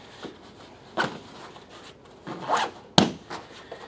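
A small interior zipper pouch on a Kifaru 44 Mag backpack is zipped in several short, sharp bursts, close by, with quiet pauses and rustling between pulls.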